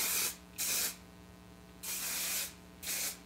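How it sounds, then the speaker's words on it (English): Garnier Sleek and Shine hairspray released in four sharp hissing bursts, each about a third to two-thirds of a second long, with short pauses between them, close and fairly quiet. "this is when I take my Garnier. This is the Sleek and Shine Hairspray."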